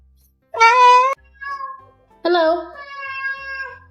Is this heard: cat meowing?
yes